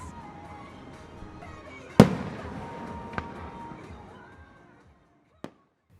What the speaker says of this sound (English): The night concluded with fireworks that lit up the sky above the Gainesville campus.